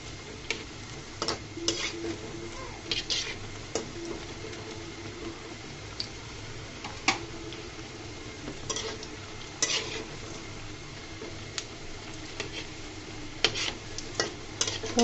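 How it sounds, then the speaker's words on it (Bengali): Bread and egg snack frying in a pan, a continuous close sizzle with frequent ticking spatula scrapes and taps against the pan. "সুন্দর করে ভেজে নিচ্ছি"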